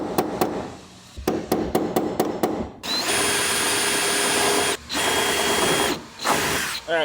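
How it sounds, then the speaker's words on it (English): A power drill bores out two rivets on the window frame of a vintage Airstream trailer, close and loud, with a few sharp metallic taps first, then sustained whining bursts broken by short pauses. "there are 2 rivets on the top that I have to just drill out"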